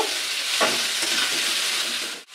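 Finely shredded cabbage and potatoes fry in a pan with a loud, steady sizzle, broken by a few stirring scrapes close by and no voices.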